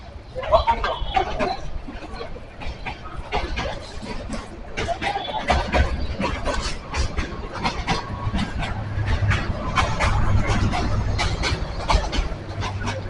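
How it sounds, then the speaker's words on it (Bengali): A Dhaka-to-Chattogram train rumbles past nearby with rhythmic clattering of wheels on rails, under a steady low road noise and people talking. "সামনে ট্রেন যাইতেছে"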